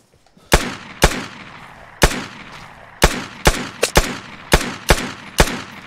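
Single pistol shots from a PM Makarov in the survival shooter Vigor, about ten sharp loud cracks at irregular intervals, some in quick pairs, with no talk.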